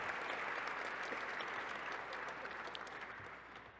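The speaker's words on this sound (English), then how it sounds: "That deserves a round of applause." An audience at a mentoring celebration event applauds with steady, dense clapping that gradually fades toward the end.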